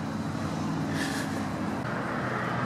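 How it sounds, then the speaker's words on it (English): Road traffic behind coastal wetlands near a marina makes a steady, distant broadband rumble that stays unbroken throughout, with no talk. "We hear some traffic. There's a road actually behind me."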